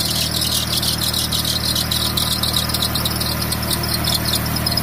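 Air-conditioning compressor on a Nissan Sentra B12 squealing steadily and loudly over a low engine hum, a continuous high-pitched whine with no voices.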